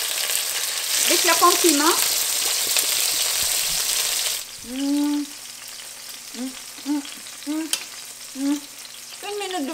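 Tomatoes frying in hot oil in a pan for spaghetti with bottarga, a loud broadband sizzle at first that drops to a steadier crackle, with a voice speaking briefly over the cooking.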